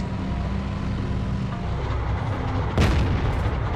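A booming Type 59 tank gun shot in the World of Tanks game, one heavy blast rising over a constant low engine rumble and dense battle ambience, with no voices.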